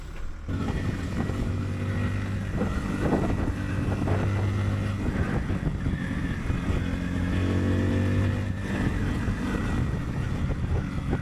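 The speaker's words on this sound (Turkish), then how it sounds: "Evet 5 tane motor var arkadaşlar. 5 motor birlikte gidiyoruz." A group of five motorcycles riding together on a road toward a highland camp, their engines droning steadily with heavy wind rush over the microphone, close and continuous.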